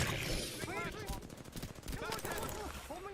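Rapid automatic gunfire in an Apex Legends match, bursts rattling steadily through the clip alongside tonal in-game effects, with voices talking over the action.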